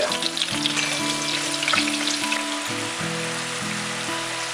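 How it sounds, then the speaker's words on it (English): Sausage drippings sizzling in a frying pan, a steady close crackle and hiss under a repeating tonal musical background. "we're getting some nice murky sausage drippings going on"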